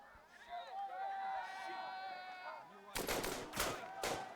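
Rapid bursts of rifle and machine-gun fire erupt in the video game Burden of Command, several loud cracking volleys in the final second and a half, after a stretch of musical tones with a voice speaking over them.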